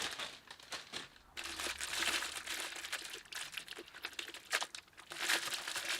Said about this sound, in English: I'll just remove the plastic bags so we can take a proper look at what we've got.